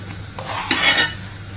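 A spoon stirring a hot plantain mixture, a brief scraping swirl of utensil against the pot lasting under a second, close and moderately loud, with no talking.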